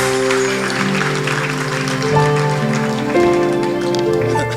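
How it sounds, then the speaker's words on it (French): A church congregation applauds loudly and steadily through a sermon, the dense clapping running the full length over sustained tonal music. "Acclamez très fort."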